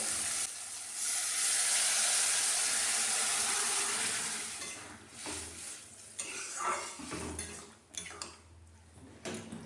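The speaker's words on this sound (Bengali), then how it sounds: "মশলাটা কষানো হয়ে গেছে, এবার ডালটা ঢেলে দেবো" Chana dal poured into a fried spice paste sweetened with a little sugar: a loud hissing sizzle swells for several seconds, then fades into scattered clatter of utensils and pan.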